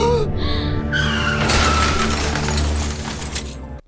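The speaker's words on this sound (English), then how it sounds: "I had to find a couple different sound effects of like crashing" A car crash sound effect for a short film: engine drone and tire skid build into a loud smashing, shattering impact, then cut off abruptly.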